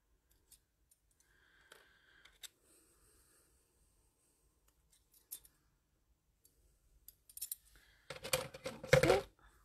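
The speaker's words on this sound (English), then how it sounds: "So we just get some scissors and trim those little bits off." Scissors snip loose bits off a craft butterfly, first a few faint isolated clicks and then a quick burst of louder, close crisp cuts near the end, with quiet gaps between.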